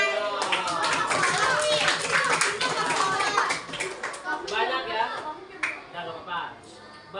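Children clap their hands in a classroom training session, a loud burst of rapid, uneven claps that thins out toward the end while a voice talks underneath.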